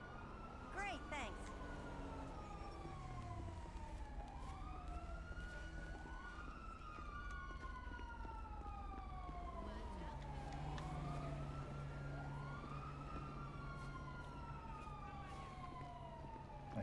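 Several police sirens in a video game wail and overlap continuously, their pitch sweeping up and down in repeated arcs, with a low steady rumble underneath.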